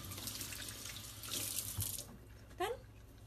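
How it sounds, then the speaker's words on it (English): Steady rush of cold water from a kitchen faucet running over a beeswax food wrap being rinsed, continuous and close, swelling briefly midway as the wrap is moved under the stream. "Run it under some cold water."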